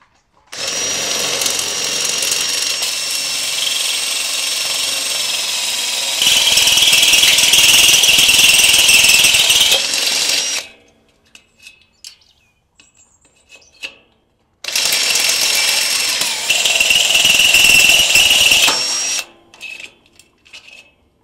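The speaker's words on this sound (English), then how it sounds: "So now we're going to drill the bottom hole" Power drill boring holes in a gate frame to fit a Zedlock sliding bolt, loud and close, running in two long bursts separated by a quiet pause.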